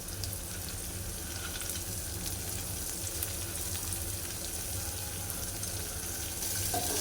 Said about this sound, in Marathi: कांद्याबरोबर मटकी चांगली भाजून घेऊया